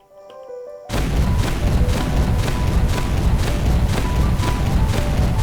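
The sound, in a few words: Terraria hand cannon firing high explosive peanut shells, video game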